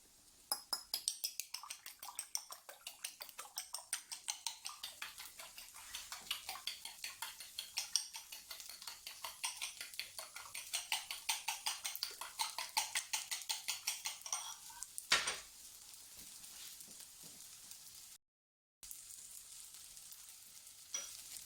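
Eggs beaten briskly in a bowl for Singaporean-style egg fried rice, a fast steady clatter of whisking strokes for about fifteen seconds, then it stops and quieter kitchen noise follows.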